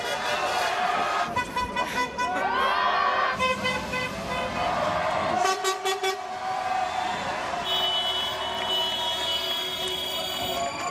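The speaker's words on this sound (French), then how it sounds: "Ça c'était un klaxon de soutien." Car horns blare in support of a French teachers' and students' Covid-era strike protest: several long and short honks at close range ring out over street traffic noise, with brief voices.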